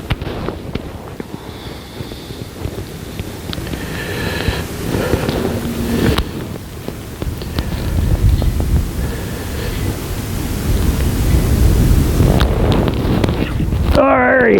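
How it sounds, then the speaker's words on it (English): Wind blows across Lake of the Ozarks during crappie fishing, a broad continuous rushing roar buffeting the microphone and swelling louder toward the end, with a voice speaking now and then. "That wind's blowing."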